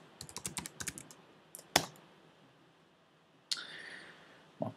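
Keys clatter on a computer keyboard in a quick burst of close taps, followed by a single sharp Enter press and a couple of isolated clicks in an otherwise quiet room.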